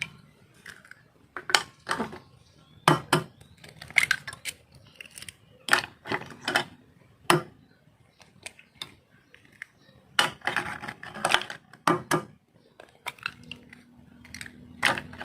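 Eggs for a homemade egg-based plant hormone are cracked and beaten omelette-style in a bowl, giving scattered sharp clicks, taps and scrapes of utensil against the container, irregular and close, with no talking.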